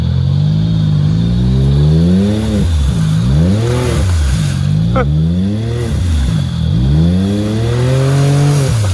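A Can-Am Maverick X3 UTV engine revs loudly in repeated rising and falling surges, close and continuous, with no talking.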